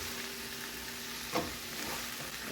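Ground sausage meat frying in a pan, a steady soft sizzle with one brief stir or scrape partway through.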